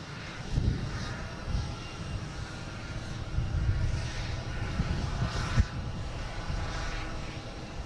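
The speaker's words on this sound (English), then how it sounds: "Flight 1620, heading to London Heathrow. An A321neo, right here in the alley" An Airbus A321neo jet on flight 1620 to London Heathrow rumbles steadily at Boston Logan, a broad continuous engine roar at moderate distance with no voices.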